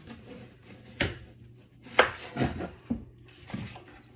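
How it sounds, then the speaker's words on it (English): Onions, carrots and celery for chicken noodle soup being chopped on a cutting board, a few sharp knife strikes spaced irregularly, close and distinct, with no talking. "chop all those things into little pieces"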